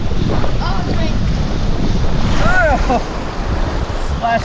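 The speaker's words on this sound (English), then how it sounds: "Oh! Splash down." Water splashing and rushing as a raft lands at the bottom of a water slide at a waterpark in Irvine, California, heard as a loud, steady wash of water and wind noise with brief voices calling out.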